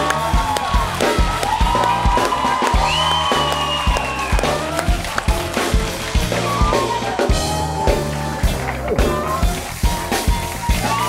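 Loud, sustained studio audience applause and cheering welcoming a guest onto a Turkish late-night TV talk show, dense and close, with music underneath.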